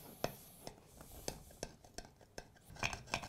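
A knife cuts through a gwastel loaf, a Breton bread, with sparse crisp crunches and clicks spaced irregularly, fairly faint and close, with a busier cluster of crackles near the end.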